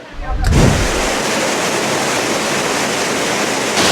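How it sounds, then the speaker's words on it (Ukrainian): St Nectan's Glen waterfall in Cornwall pours in a loud, steady rushing roar that swells in after a quiet first half-second and then holds constant and close. "Називається цей водоспад Сент Нектанс Глен."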